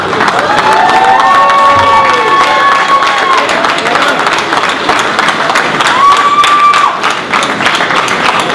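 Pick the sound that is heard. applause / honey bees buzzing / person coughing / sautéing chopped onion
applause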